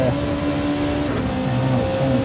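A race car engine holds a steady high drone through a corner in a JGTC racing league game, with pitch dipping slightly on a lift, then pulling again, loud and close.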